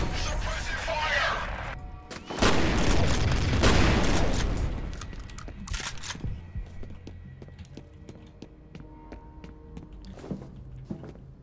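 Gunfire in the F.E.A.R. shooter game comes as a loud, dense volley in the early seconds. Scattered sharp impacts and fainter pops follow, then the firing trails off into quieter game ambience.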